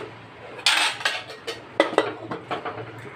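Cooked veg pulao being packed into containers: a quick run of close clinks and scrapes of a spoon against dishes, a sharp knock followed by several lighter taps over a few seconds.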